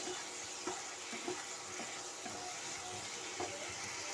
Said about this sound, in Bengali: দেখো বন্ধুরা, এভাবে নাড়াচাড়া করে নিতে হবে।